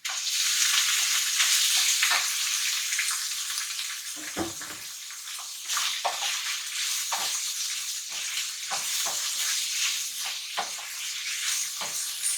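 Minced beef stir-frying in a pan, a loud, dense hissing sizzle that stays constant throughout, punctuated by soft intermittent knocks and scrapes of a utensil moving the meat.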